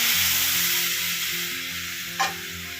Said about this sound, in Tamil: இப்போ பாருங்கங்க, நம்ம கரைச்சி வச்சுருக்கிற ரசத்தையும் எடுத்து ஊற்றியாச்சு